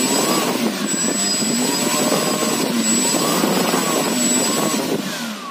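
A brushless DC motor spins at high RPM with a steady high-pitched whine and propeller-like buzz, loud and close, holding constant speed for several seconds before easing slightly at the end.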